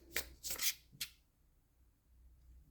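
Oracle cards are shuffled in three quick riffling bursts close up, then the room goes quiet.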